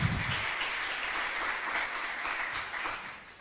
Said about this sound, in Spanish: Te damos un aplauso de bienvenida de vuelta